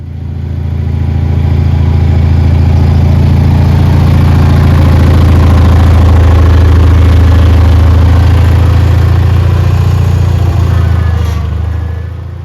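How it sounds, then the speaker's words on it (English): Two tractors fitted with snow moving equipment idle and rumble steadily close by, a loud, continuous low engine drone that holds for the whole stretch with no talk. "Now we have two tractors with snow moving equipment on, so let's get them round"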